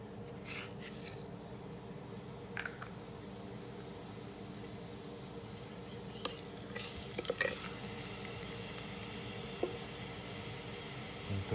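Mustard and cumin seeds sizzling in hot oil for an Instant Pot dal fry, a faint steady frying hiss with scattered crackles and pops, quiet and close.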